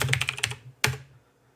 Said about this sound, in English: I'm on my PC keyboard.